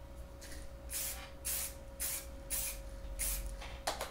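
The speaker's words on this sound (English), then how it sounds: "spray fix" Fixative sprayed onto a colour chalk drawing of a car comes in short, close hissing bursts, about seven quick puffs in a quiet room with a faint steady hum underneath.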